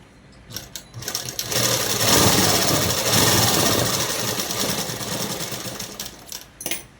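Sewing machine stitching tucks into a dress, a steady close mechanical whirring run that builds up, holds for several seconds, then slows into short stop-start bursts.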